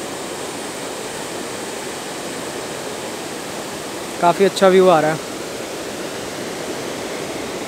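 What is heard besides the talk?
fast-flowing river in Parvati Valley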